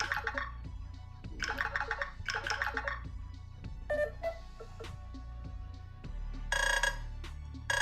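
A Nothing Phone 4a Pro plays a series of short chiming, bell-like ringtone samples one after another, rhythmic and fairly quiet, with no talk.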